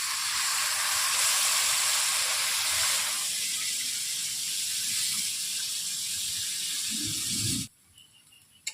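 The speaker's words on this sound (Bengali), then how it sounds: "আগে থেকে সর্ষে বেটে রেখেছিলাম, ওগুলোকে জলে গুলিয়ে আমি ধুয়ে দিই।" Running water rinses ground mustard paste from a container in a kitchen, a steady loud hissing stream that runs for several seconds, then cuts off abruptly near the end.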